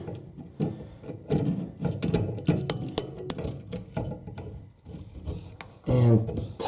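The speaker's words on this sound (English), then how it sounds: "Then take your adjustable wrench." An adjustable wrench tightening a toilet fitting on a Mansfield toilet, giving repeated close metallic clicks and scrapes in irregular bursts, ending with a louder rubbing grind, with little talk.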